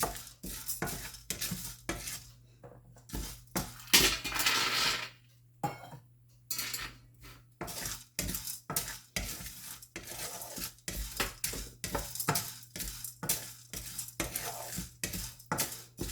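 Urad dal and chana dal dry-roasting together in a pan for karela chutney, stirred steadily with a spoon that scrapes and clatters against the metal in quick, irregular strokes, close and fairly loud with no talking.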